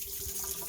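Water pours steadily into a plastic FTM stand-to-pee device, a continuous close splashing trickle with no pauses.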